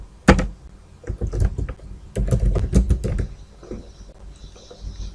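Fingers type code on a computer keyboard, close-up bursts of quick clicking keystrokes with short pauses between runs, a few heavier taps like the enter key, no speech.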